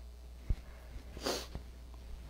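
A single quick nasal sniffle from a person, short and soft against a quiet room.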